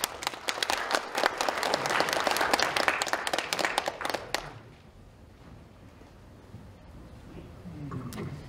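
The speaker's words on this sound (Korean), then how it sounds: "여러분 박수로 환영해 주십시오." A seminar audience applauds a speaker being welcomed, a dense burst of clapping for about four seconds that then dies away into quiet room tone.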